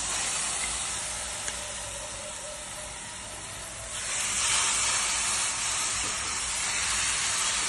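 Tomato and onion masala with turmeric and salt sizzles in a pan for palak paneer, giving a steady close hiss that swells louder about halfway through and then holds.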